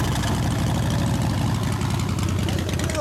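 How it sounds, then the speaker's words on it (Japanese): A 2013 Harley-Davidson Softail FXSB Breakout CVO with a Vance & Hines exhaust idles steadily with a low, throbbing rumble, close by and continuous, with a faint voice briefly audible beneath it. "エンジン音聞かせてもらいます。"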